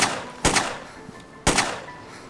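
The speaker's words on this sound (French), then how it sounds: "et il tire sur qui lui?" In the DayZ video game, two loud, sharp gunshots ring out about a second apart, each with a short, bright echo over constant background noise. There is no speech during the shots.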